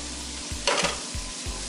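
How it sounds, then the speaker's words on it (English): Bacon and onions frying in a skillet give a soft, steady sizzle with a brief louder hiss and a few low stirring knocks in the middle, heard alone and fairly quiet. "I'm gonna put some bacon in here, some onions in here"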